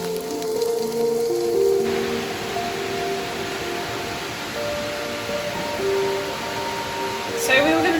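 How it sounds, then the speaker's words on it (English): Steady heavy rain pours down on a rainy morning in the Atherton Tablelands, Australia, a dense, even hiss that fills the whole stretch, with faint tonal background sounds mixed in. "it is tipping it down with rain"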